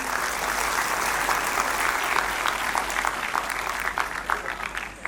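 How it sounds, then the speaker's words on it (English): An audience at a medical college convocation gives a sustained round of applause, dense and even throughout, with a low hum underneath and the clapping tapering slightly at the very end. "Can we have a round of applause"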